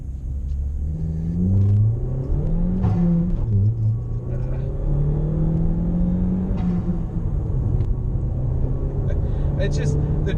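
A modified Chevy Cruze with a turbo engine accelerates with a loud, rising low rumble that shifts in pitch from inside the car, while people talk over it.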